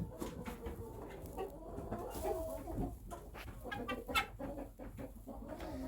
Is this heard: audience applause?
no